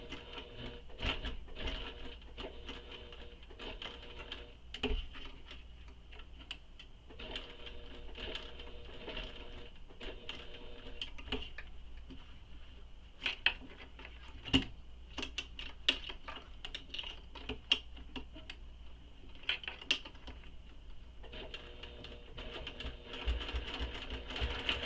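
A sewing machine slowly top-stitches a handbag seam, its rapid ticking needle stroke running close and steady for a long stretch with occasional sharper clicks, no voices over it.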